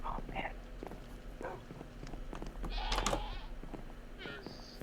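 Goats and llamas bleat in a Minecraft-style video game, giving several short, nasal animal calls over a low background hum and soft footstep clicks.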